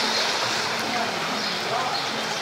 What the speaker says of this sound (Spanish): Aquí está el arroyito de la Moncada. Tenía años que no se ponía así.